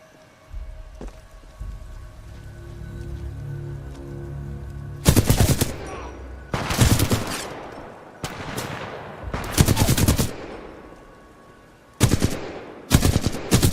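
Flatline rifle fire in the Titanfall 2 video game, several dense rapid automatic bursts of a few seconds each, loud and close, separated by quieter stretches of low game ambience and hum.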